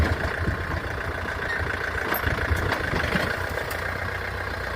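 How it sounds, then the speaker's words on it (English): A farm tractor's engine runs steadily at a low, rumbling idle while clearing debris from a snowmelt washout near a culvert, a constant mid-distance drone with no voices. "my husband's going to get on the tractor and work on trying to dig this out"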